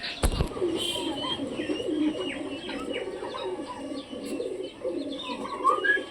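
Pet pigeons coo continuously at close range, layered soft throaty calls overlapping throughout, with a brief thump near the start and faint chirps above.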